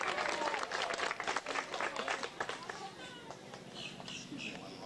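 Audience applause at a live animal show featuring a leopard gecko, a burst of clapping that fades over a few seconds, with a voice talking over it.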